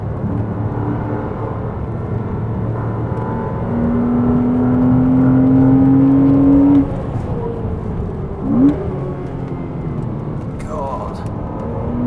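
A Porsche Cayman 987 with a 2.7 engine is driven hard on the Goodwood track, its engine droning steadily, rising in pitch under load, then dropping off under braking. People talk over it inside the car.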